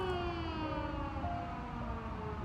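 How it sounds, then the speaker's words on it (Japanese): A police siren wails steadily in the distance over low rumbling traffic noise, faint but continuous throughout. "今ちょっとパトカーが鳴ってるんでちょっと待ってくださいね。"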